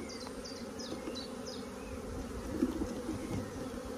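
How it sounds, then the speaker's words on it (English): Honey bees buzz steadily around an open hive being smoked during an inspection, a soft, even drone close by with no talking over it. "Just give them a little bit of smoke to clear the bees off"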